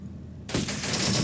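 A sudden burst of dense, rapid gunfire from many weapons erupts after a short quiet moment in the real-time strategy game Syrian Warfare, loud and sustained, with defenders firing on attackers around a station.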